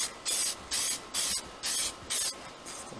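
A spray can lays a final coat of paint on a Traxxas Stampede RC monster truck body in six evenly spaced, loud, close hissing bursts, each about half a second, separated by short pauses.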